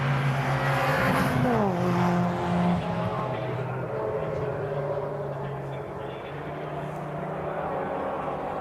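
MGCC race cars battle for position in the Cockshoot Cup at Cadwell Park, engines droning and shifting pitch as several pass by, with a steady, mid-distance roar that fades slightly toward the end.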